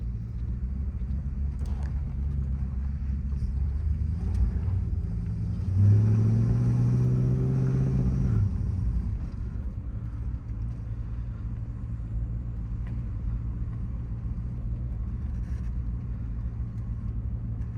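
A 1962 Dodge Custom 880 with drum brakes pulls away in drive, its engine a low steady rumble that swells briefly as it accelerates, then settles into a constant hum.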